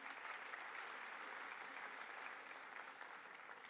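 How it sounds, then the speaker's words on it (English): Applause for the volunteers fills the hall, a faint, distant wash of many hands clapping steadily for the full stretch, gradually easing toward the end. "kindly give a huge round of applause for our volunteers"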